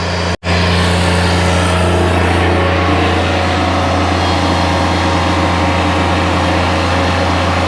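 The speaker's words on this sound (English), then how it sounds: "One thing I dislike about this is the travel speed. I mean, it's not terrible. And the other thing is the engine noise." A Bobcat MT100 mini skid steer engine runs in a woodyard with a steady, loud, close droning hum that holds without a break after a brief cut at the start.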